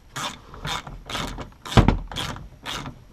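Ratchet wrench clicking in repeated bursts while removing the skid plate bolts underneath a Fiat 500 Abarth during an oil change, about six close, loud ratcheting strokes with no talking.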